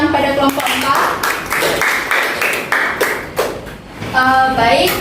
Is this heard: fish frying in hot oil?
no